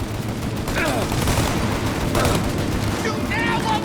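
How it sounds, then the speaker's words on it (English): A Mafia Definitive Edition shootout brings dense, continuous gunfire, loud and sustained with overlapping bursts, while voices shout over it. "Shoot out your gun when there's a break in the fire! And reload! Shoot!"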